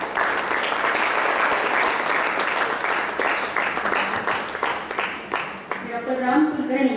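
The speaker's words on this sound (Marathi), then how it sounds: "आपण सगळ्यांनीच एकदा जोरदार टाळ्या वाजवूया." A crowd at a book-publishing function claps loudly and continuously, dense applause filling the room before fading as it tails off near the end.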